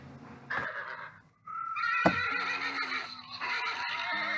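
A horse neighs and whinnies loudly and close by in a ranch setting, a first short call, a brief pause, then a longer shaky whinny with a sharp burst near the middle.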